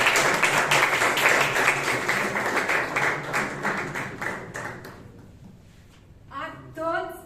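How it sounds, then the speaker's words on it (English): Applause at a Toastmasters club meeting in Bangalore after a member's speech, a dense room-wide clapping that starts loud and gradually thins and fades over several seconds, ending with a few brief voices. "A round of applause for the speaker."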